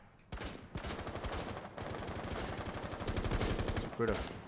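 Rapid automatic gunfire in Rainbow Six Siege, shooting through a wall, in two long rattling bursts that pause briefly and then resume, with a short quieter burst near the end and voices faintly mixed in.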